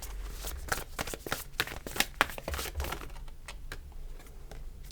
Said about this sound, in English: I'm going to get you just a few more cards out first so I can get all the shuffling out the way